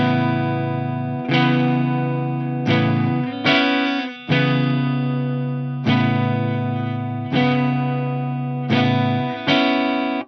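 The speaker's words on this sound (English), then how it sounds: "The whole sequence sounds like this without effects or the volume swells." Clean electric guitar without effects or volume swells strums the chord sequence of a song, about eight strikes, each ringing out and decaying before the next change.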